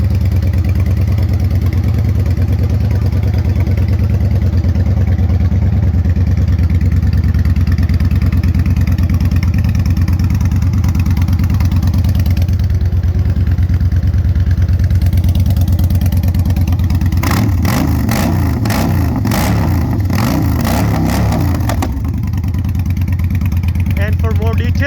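A 2016 Victory Gunner cruiser motorcycle with a six-speed transmission idles loudly and evenly up close, then breaks into a short run of throttle blips near the end before settling back.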